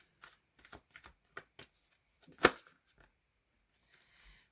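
Oracle cards being shuffled up close, a run of quick papery riffles and flicks with one louder slap near the end, then near silence.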